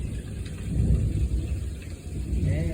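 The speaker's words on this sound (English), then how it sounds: "We're gonna get some thunder and lightning." Heavy rain pours down with thunder during a storm, a low rumbling roar swelling and fading beneath a steady rush of rainfall, loud and close, with no speech.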